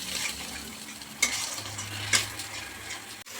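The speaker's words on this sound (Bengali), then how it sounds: "মশলাটা কষা হয়ে গেছে, খুব সুন্দর ঝোলটা ফুটে গেছে" Spiced gravy for a fish malai curry simmers in a pan with a soft, steady bubbling hiss. It is quiet and close, broken by a couple of light utensil clinks.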